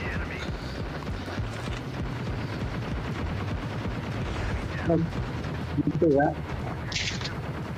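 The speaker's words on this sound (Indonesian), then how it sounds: "Dia tuh nembakin kita bro." An enemy fires on the player in a battle royale shooter, producing a run of rapid, repeated gunshots under ongoing chatter, with a few louder bursts toward the end.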